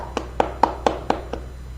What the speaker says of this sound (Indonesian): Tepuk tangan dulu kepada Bang Rizky yang telah menyampaikan kesimpulan